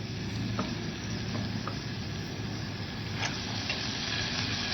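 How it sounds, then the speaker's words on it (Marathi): Spices, onion and tomato sauté in oil for a snake gourd bhaji, giving a dense, steady sizzle with a few faint stirring taps, close and continuous. "छान असं परतून घ्यायचं म्हणजे तेलामध्ये छान मसाले आपले परतले जातात कांदा आणि टोमॅटोसोबतच"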